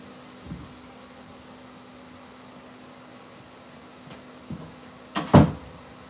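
A room door being shut: faint knocks and bumps over a quiet background hum, then one firm, closer thud near the end.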